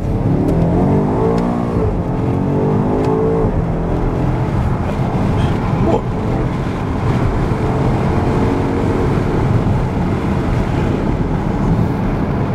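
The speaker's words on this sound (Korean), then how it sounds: "소리가 엄청 잘 들어오네요. 이 배기 소리." A BMW X5 M Competition engine revs and drones loudly with a throaty exhaust note, heard steadily from inside the moving SUV, no talking.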